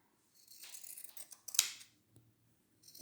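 Pinking shears snipping cotton fabric for a face mask, a run of close, crisp cutting crunches with one sharp louder snip, a short pause, then another cut starting.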